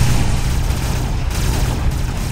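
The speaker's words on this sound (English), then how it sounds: "These lasers can shoot anything down." Laser cannon fire in the real-time strategy game Command & Conquer Generals Zero Hour, USA Laser General faction: a dense, sustained roar of blasts and booms filling the whole stretch, loud and close with no pauses.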